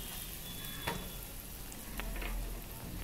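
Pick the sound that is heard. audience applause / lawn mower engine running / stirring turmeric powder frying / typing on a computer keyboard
stirring turmeric powder frying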